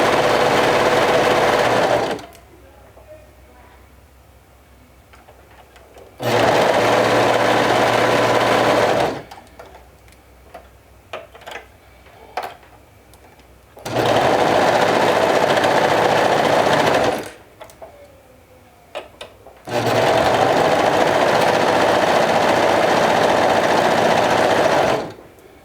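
A sewing machine stitches through quilt layers in four loud, steady bursts of several seconds each, separated by pauses filled with faint handling and shuffling of the fabric.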